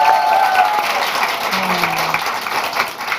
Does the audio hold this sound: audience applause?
yes